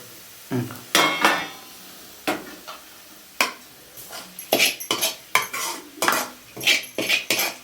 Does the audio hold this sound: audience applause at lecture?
no